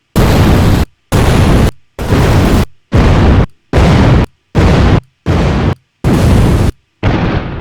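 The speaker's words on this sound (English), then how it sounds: "Great, great explosion sound effects." A series of eight loud booming explosions, each a broad burst lasting most of a second, separated by short silent gaps in a steady rhythm.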